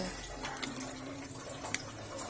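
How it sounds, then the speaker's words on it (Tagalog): Water runs steadily into a cooking pot of snails in coconut milk at close range, a continuous splashing pour without talk. "Lagyan natin ng kaunting tubig."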